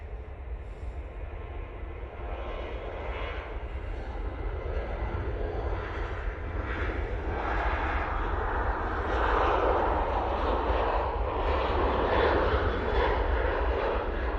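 Airliner taking off from Manchester Airport, a continuous heavy engine roar with deep low rumble, swelling gradually louder and staying steady throughout.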